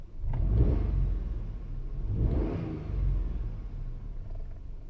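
A six-year-old Hyundai Eon's engine is revved twice, each rise swelling into a loud rumbling roar before settling back toward idle, close to the car with no talking.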